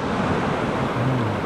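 Water rushes near the waterfalls of Lauterbrunnen, Switzerland, in a dense, steady roar with no break, and a faint low voice hums briefly beneath it.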